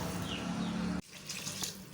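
Water pours into a pot of spiced chicken for desi murgh shorba, a steady close splashing stream that cuts off halfway, followed by lighter trickling and faint dripping, with no speech.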